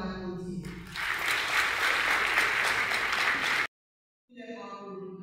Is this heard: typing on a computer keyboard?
no